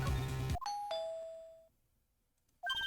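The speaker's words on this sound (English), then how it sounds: "Ding dong. Oh, someone's at the door." A two-tone ding-dong doorbell chime in the Phoenix Wright: Trials & Tribulations video game rings once, clear and alone. It fades out with a ringing tail before a musical tone starts again.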